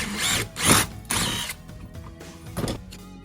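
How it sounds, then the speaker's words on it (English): A power drill bores a 5/16 bolt hole in a metal air cleaner cover for a Harley intake. It runs in loud, close bursts, with short pauses and lighter mechanical rattling between them. "Now that the center pilot hole is set, I bored out the 5/16 and match the bolt hole for the air cleaner cover."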